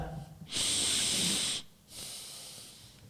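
A voice mimics someone sniffing a robot, with two long sharp nasal inhalations separated by a short pause, close and breathy.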